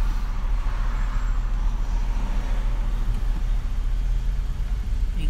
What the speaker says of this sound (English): Oh, this dang traffic.